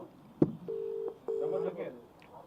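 Two steady phone keypad dialing tones sound one after another, each lasting about half a second, near and clear after a short knock, with faint background noise and no talking.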